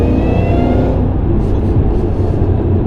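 A supercharged 663-wheel-horsepower modified Shelby GT500 Mustang accelerates hard, a loud, dense, continuous engine roar filling the whole stretch without pause.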